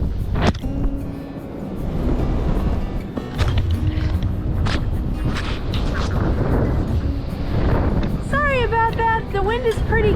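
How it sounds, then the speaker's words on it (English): Gusty wind blowing outdoors on a snowy winter day, a steady broadband rush with surging gusts throughout, and brief higher chirping sounds near the end. "The wind is pretty gusty."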